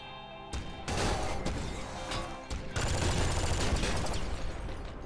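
A grenade launcher fires in the video game Nuclear Throne, a string of loud, dense explosive bursts and crashes that come in quick succession and fill the mix.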